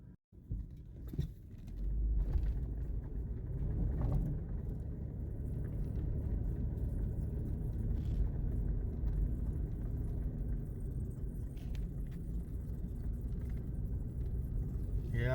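4x4 vehicle in 4 low with rear diff locker engaged crawling along a snowy Haddo Forest Service Road, a steady low engine rumble and drivetrain drone throughout.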